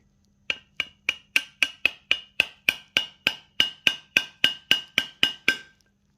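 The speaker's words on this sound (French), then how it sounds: "Tu prends un maillet ou un petit marteau et..." A mallet or small hammer taps a part into place on a Volkswagen Golf 4 1.4 16v, about eighteen sharp metallic knocks in a steady quickening rhythm, close and loud with no talk.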